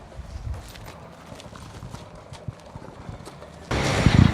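Horse hooves clip-clopping on a track at an Icelandic riding competition, a steady run of light hoof beats at moderate distance that gives way to a louder, busier stretch of noise near the end.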